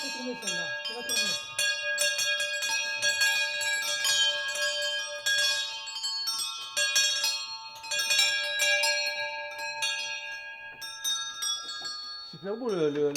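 A full swinging peal of church bells rings out continuously, many overlapping strikes and long sustained tones layered densely and loudly, with a voice briefly heard near the end.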